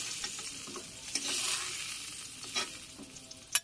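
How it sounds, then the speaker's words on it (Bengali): Small fish frying in hot oil in a pan on a village kitchen stove, a steady close sizzle with light scrapes of stirring and a sharper clink near the end, no voices. "এই মাছ ভাজি হয়ে গেছে মাছ ভাজিটা নামিয়ে নিই"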